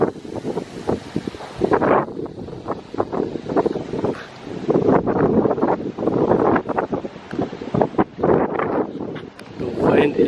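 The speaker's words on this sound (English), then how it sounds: "The wind is crazy, y'all." Strong gusty wind blowing outdoors around a house, roaring and buffeting the microphone in loud surges with brief lulls, continuous throughout with no talk.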